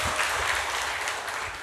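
Church congregation applauding during a Sunday sermon, a steady, dense burst of clapping that fills the short moment without a pause.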